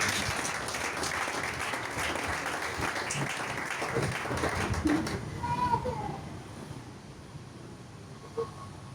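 A church congregation applauding, dense clapping and voices mixed with some children's chatter for about five seconds, then fading into quieter murmuring.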